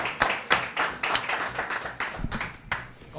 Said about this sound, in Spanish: ¡Venga, ese aplauso para Cookie!